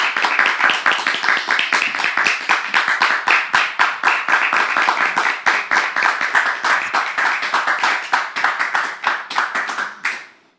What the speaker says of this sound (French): On les reçoit avec vos applaudissements.